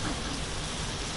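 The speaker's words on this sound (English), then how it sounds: "Ooh, it's raining." Steady rain falls in the video game Dragon Quest Builders 2, an even, continuous hiss of drops on the ground that holds through the whole short moment with no voices.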